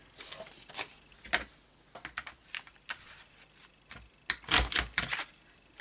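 A border punch presses through paper for a junk journal, making a close series of sharp clicks and crunchy snaps in irregular clusters, with no talking.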